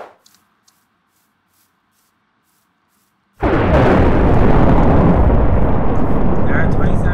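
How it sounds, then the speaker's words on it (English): Thunder in a Minecraft Hunger Games match, a sudden loud, deep roaring crash that follows a quiet stretch and keeps rumbling without a break. "Those freaking thunders are so fucking loud."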